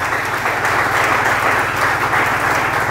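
A church congregation bursts into loud, sustained applause during a Sunday service, dense clapping filling the space evenly with no voices over it.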